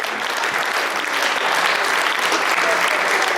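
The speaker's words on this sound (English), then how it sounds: "Give them a round of applause." A 2022 Chamber of Commerce banquet crowd in Schuyler, Nebraska gives a steady, full round of applause from many hands, even and sustained throughout with no break.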